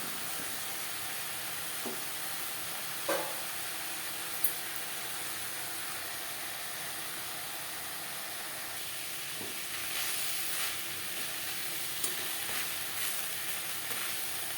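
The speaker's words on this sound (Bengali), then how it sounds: "নাড়াচাড়া করে ড্রাই করে নেব" Telakochu greens being stir-fried dry in an open pan, giving a steady soft sizzle with a few scattered clinks and scrapes from stirring, close and continuous without talk.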